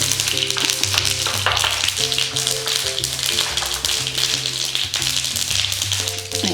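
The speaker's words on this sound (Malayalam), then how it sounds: "ഒന്ന് കടുക് പൊട്ടി." Mustard seeds splutter in two spoons of hot oil in a pan for a buttermilk curry. The dense, close crackling and popping runs without a break, with faint clinks of metal underneath.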